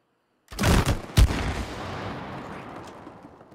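Gunfire in the video game It Takes Two, a couple of sharp, heavy shots in quick succession followed by a long booming tail that fades out.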